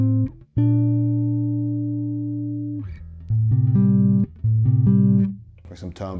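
Double stops on a Fender Custom Shop '63 Precision Bass: a long, ringing two-note chord that slowly fades, then several shorter, clean repeated note pairs played in a loose rhythm.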